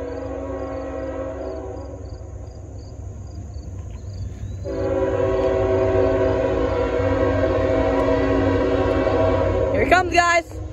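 Norfolk Southern freight train 38G with a rear DPU locomotive passes, a loud, close rumble and engine drone that builds and then holds, with an air horn blast near the end and people talking.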